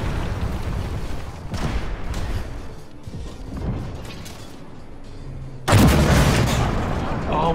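Tank gun fire in an online tank battle game, several deep booming shots with rumbling echoes, then a sudden loud close blast near the end.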